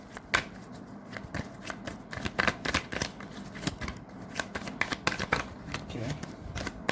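Tarot cards are shuffled nonstop, a dense stream of crisp riffling flicks and slaps close to the listener, with a voice talking faintly beneath.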